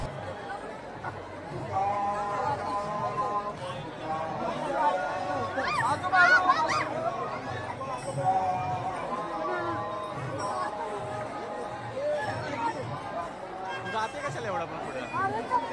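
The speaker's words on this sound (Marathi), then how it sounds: "खूप गर्दी आहे" A dense crowd of devotees fills the Sant Tukaram Maharaj palkhi procession near Pune with steady babble and chatter. Close voices rise and fall over the continuous hubbub of the throng.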